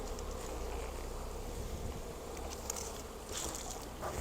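Honey bee workers buzzing around hive frames during a colony split, a steady dense hum filling the whole stretch at moderate level, close and without talk.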